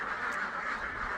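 Khaki Campbell and Pekin ducks quack at a duck farm, a steady, continuous chorus of many birds close by with no pauses.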